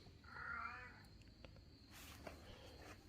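A house cat lets out one drawn-out, wavering meow early on, fairly close and moderately loud, then the room goes quiet apart from faint low background noise.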